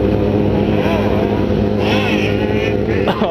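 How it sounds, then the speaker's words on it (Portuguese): A large group of about thirty to forty motorcycles rides together at night, with a loud continuous roar of engines close by and revving layered on top. "Muita moto, velho."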